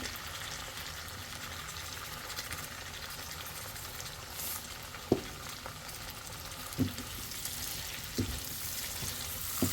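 Green beans sautéing with salt in a pan for a chital fish kopta dish, giving a steady soft sizzle with a few faint scraping stir knocks throughout.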